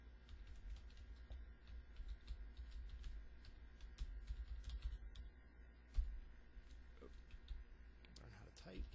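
Quiet typing on a computer keyboard while setting up an OpenStack network: a steady patter of soft key clicks with occasional louder taps, beneath a low hum and faint speech.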